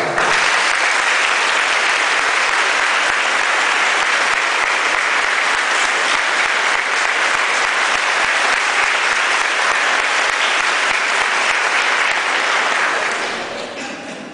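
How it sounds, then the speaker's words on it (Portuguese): A church congregation gives a warm round of applause, dense steady clapping that holds loud and even for about thirteen seconds before tapering off at the end. "vamos nos acolher mutuamente com mais uma calorosa salva de palmas"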